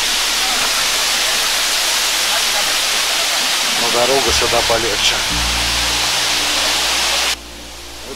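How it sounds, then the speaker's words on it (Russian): A mountain waterfall in Abkhazia roars with a steady, loud, broadband rush of falling water. Someone speaks briefly over it before the noise drops off abruptly near the end. "Идет еще один водопад"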